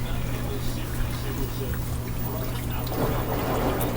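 Water rushes and pours steadily into the drum of an LG WM3600HWA washing machine, a continuous churning hiss over a low motor hum, with faint gurgling near the end.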